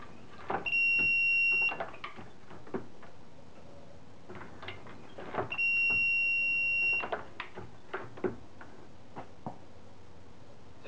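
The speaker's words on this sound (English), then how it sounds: "validate that the buzzer goes off" Two sustained electronic buzzer tones from a Dillon XL-650 reloading press powder check system, each lasting about a second, sound a few seconds apart amid scattered mechanical clicks and handling noises.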